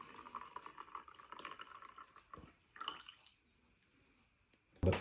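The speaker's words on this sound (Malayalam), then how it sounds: "ചൂടായ വൈൻ നമുക്ക് നമ്മുടെ വൈൻ ഗ്ലാസ്സിലേക്ക് ഒഴിക്കാം" Hot spiced mulled wine is poured into a wine glass, a thin trickling stream with a brief splashing fill that tapers off into quiet, ending with a sharp clink.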